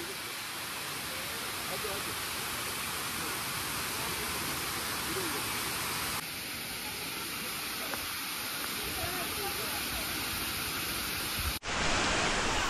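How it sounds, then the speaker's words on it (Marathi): A waterfall roars as a steady, loud, broadband rush that fills the whole scene, near and constant. "तर इकडे आपला वॉटरफॉल आहे"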